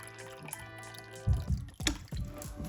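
Mirin poured into a cooking bowl in a kitchen, heard as a short run of soft drips and liquid trickling over a low background tone, close and fairly quiet, with no talking.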